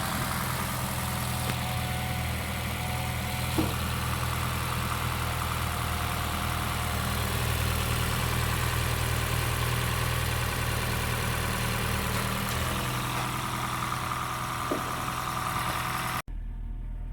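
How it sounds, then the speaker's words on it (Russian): A 2016 Honda Shuttle hybrid engine idles steadily through an idle relearn procedure, a continuous low mechanical drone with faint clicks, running alone and close until it cuts off abruptly near the end. "Идет процесс обучения холостого хода."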